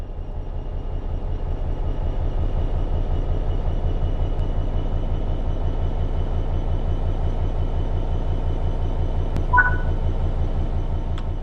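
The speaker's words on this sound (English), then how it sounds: "Apply some throttle to get the train moving." A diesel locomotive in Train Sim World 4 pulling away under throttle, a steady low engine drone with rhythmic mechanical pulsing that holds close and loud throughout, plus a brief beep near the end and no voices.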